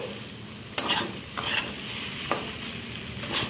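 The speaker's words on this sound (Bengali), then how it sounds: "সসগুলো দিয়ে আমি এবার ভালো করে এটাকে মিক্স করে নিচ্ছি।" Noodles being stirred and mixed with sauces in a pan, giving a few sharp scraping clacks of the utensil over a soft continuous sizzle, close and moderately quiet.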